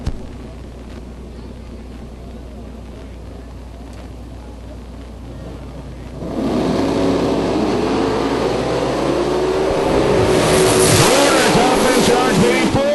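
A 1990 Mustang drag race car with a 357 cubic inch ProCharger engine at a drag strip: a steady idle first, then a loud roaring launch around six seconds that builds and holds through the pass, with crowd and announcer noise underneath.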